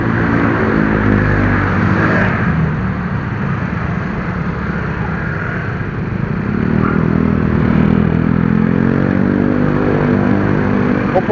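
SYM Radar 125 scooter engine on the road, a loud, continuous drone with wind rumble, holding steady and swelling slightly as it gathers speed, heard close without talk.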